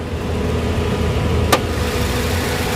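A 2013 Toyota Yaris J with automatic transmission idles steadily and smoothly, a close, even engine hum with one brief click partway through.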